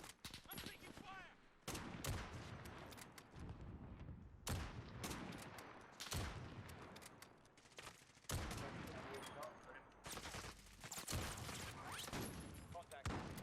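Bursts of automatic gunfire crackle in Modern Warfare 2, dense volleys separated by brief gaps, with players talking over the shooting.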